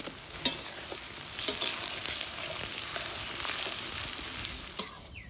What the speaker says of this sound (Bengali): পেঁয়াজগুলা কিন্তু বেশ ভাজা ভাজা হয়ে আসিয়া